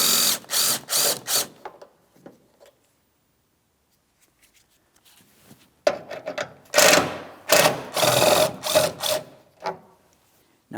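Ratchet cranking out the 10mm-headed mounting bolts across the top of the headlamp assembly on a 2007-2014 GMC Sierra 2500 HD: two bursts of quick, close clicking separated by a pause.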